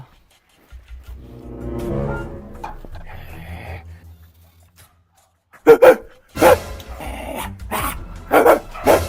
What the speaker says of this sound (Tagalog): Ano ba naman tong asong to?